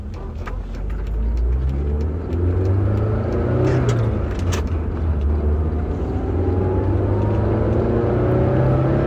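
A car engine revs hard and climbs in pitch, then the tone drops and builds again as the car shifts into second gear. The sound is loud, close and continuous across the whole stretch, with no talk over it.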